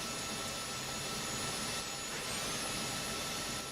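A helicopter turbine's steady, loud whine and broadband roar, a Mi-2 helicopter engine in Microsoft Flight Simulator 2024, droning on continuously without a break for the whole stretch.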